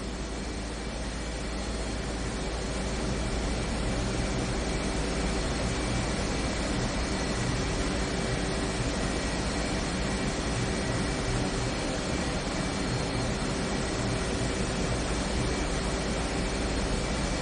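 Jet fighter engines spooling up from a cold and dark start in the DCS flight simulator, a steady loud whine and broadband roar with tonal hums, building slightly and then holding constant throughout.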